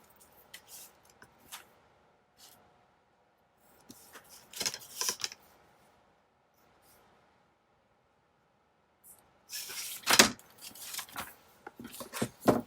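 Scissors cut journal paper, close and quiet, in short bursts of snipping and rustling. Long near-silent pauses separate them, and a louder stretch of cutting comes near the end.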